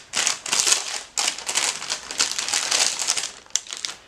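A one-pound pack of assorted-size cardstock pieces is handled up close. Repeated papery crinkling and rustling bursts with short pauses between them, and no voices.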